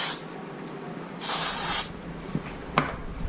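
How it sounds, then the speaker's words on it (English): A can of cooking spray hisses in one short burst of about half a second onto hands before shaping thresher shark burger patties, close and clear over faint kitchen background, followed by a couple of soft handling taps. "now I'm going to spray my hands"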